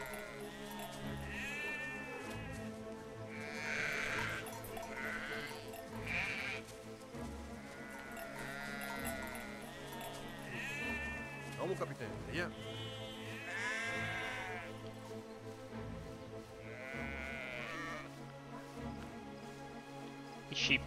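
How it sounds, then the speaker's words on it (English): Sheep in the video game Valiant Hearts: The Great War bleat repeatedly in a scattered chorus, several overlapping calls at moderate distance over a steady background. "These sheep are playing games."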